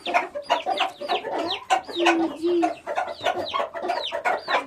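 Several chickens cluck busily in quick, overlapping bursts, close by, with a short low squawk in the middle and no talking.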